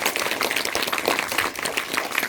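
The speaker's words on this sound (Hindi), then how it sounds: "एक बार जोरदार तालियों से उसका अभिनंदन करेंगे सब।" Dense, steady applause fills a school hall at a Children's Day celebration after a student's speech, many hands clapping together at an even, continuous level.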